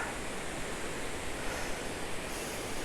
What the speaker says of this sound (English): you can see the weir, Sir Philip's weir there below us